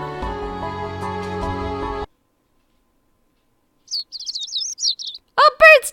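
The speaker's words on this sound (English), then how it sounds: "Birds twittering!" Birds chirp in the visual novel game Code: Realize, a quick run of high twittering calls followed by a few louder chirps up close, coming in after game music that cuts off into silence.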